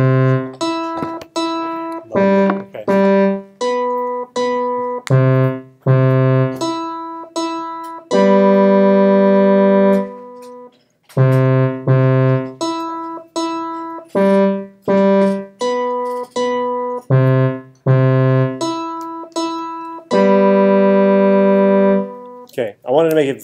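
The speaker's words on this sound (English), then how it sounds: "we're going to have two synthesizers that are kind of playing individual parts that when we play them" Two layered synthesizer parts in Logic Pro play together, sustained bright harmonic chords alternating with short staccato stabs in a steady rhythmic pattern, loud and close with no talking over them.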